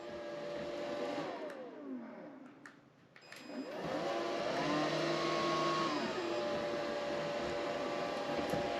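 A robot vacuum cleaner running on a carpeted floor gives a steady motorized whir that dips briefly, then spins back up into a higher sustained hum with shifting tonal whines, heard close and with no talking.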